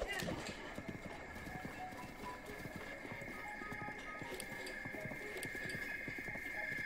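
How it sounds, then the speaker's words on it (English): Horse galloping in the video game Zelda: Breath of the Wild, rapid rhythmic clip-clop hoofbeats running steadily over a constant game background tone. "Go, horsey."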